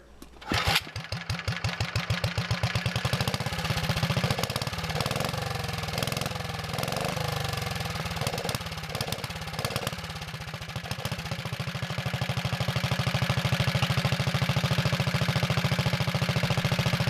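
A Wheel Horse Model 401 garden tractor engine idles steadily and loudly with a close, even putter. Its speed dips and recovers slightly as the idle screw is adjusted, with no talking.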